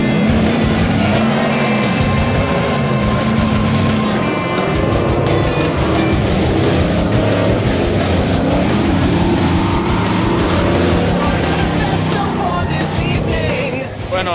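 A 4x4 autocross car with stiff, bouncy suspension drives the La Olla dirt track in Alajuela, Costa Rica, its engine droning loud and steady throughout with rising and falling revs.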